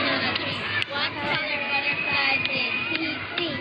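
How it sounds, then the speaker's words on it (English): Children playing on the playground of Holy Redeemer School in Belize City, a busy babble of young voices with shouts and chatter, steady and lively, heard at a moderate distance. "This is kids on a playground at Holy Redeemer School in Belize City."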